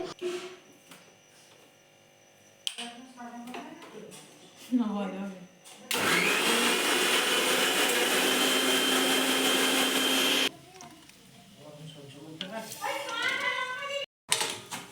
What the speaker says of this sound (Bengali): চাটনির জন্য যেগুলো লাগবে সেগুলো এখন মিক্সারে পেস্টের জন্য দেয়া হচ্ছে